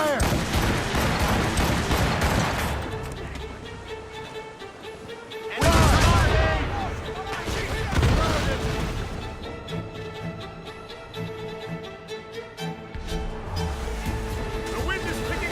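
Enemy cannon fire in an Assassin's Creed Rogue naval battle thunders in loud booming volleys, one heavy blast standing out midway, with ocean wash and shouted voices underneath.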